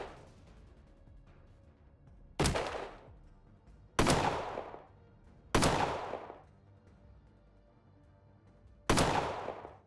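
Four separate gunshot bursts in the video game Colony Ship, loud and sharp, each decaying quickly, spaced irregularly over a low background hum.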